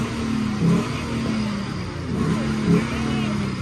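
Chevrolet Silverado pickup truck engine at a truck race in Maracaibo, Venezuela, a loud steady mid-pitched drone that swells twice in brief revs, with crowd noise and voices mixed in.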